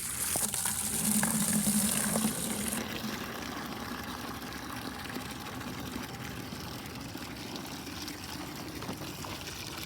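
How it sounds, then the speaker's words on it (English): Water from an outdoor tap pours steadily into a 5-gallon bucket, a dense, even gush with a brighter splash in the first seconds that settles into a constant rushing fill. "See how quickly we can fill a 5-gallon bucket."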